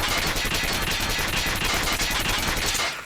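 A Krig 6 assault rifle fires in a rapid sustained burst in a shooter game, loud dense automatic fire lasting about three seconds with no talking.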